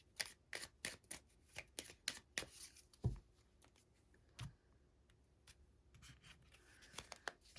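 Oracle cards are handled and shuffled close by in a quiet room, a string of quick soft flicks and taps with a few louder snaps, then sparse light rustling.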